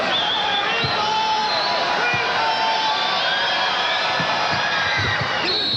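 A college basketball crowd at the Providence Civic Center roars steadily throughout, with cheers, whoops and ball bounces punching through the dense babble of the packed arena.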